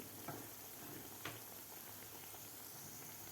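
Balushahi sweets deep-frying in oil until golden, a steady soft crackling hiss with a couple of faint utensil taps, no talking.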